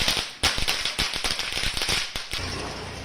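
Firecrackers bursting during Diwali celebrations in Chennai, a rapid, dense string of loud cracks and pops close by, one after another for several seconds.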